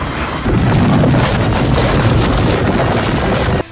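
A loud, sustained rumbling blast erupts from the point-and-click adventure game Sacred Almanac: Traces of Greed, bursting in abruptly and roaring for about three seconds before cutting off sharply.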